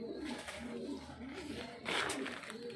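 Caged pigeons cooing softly in low, murmuring calls, with a brief louder rustle partway through; faint and close.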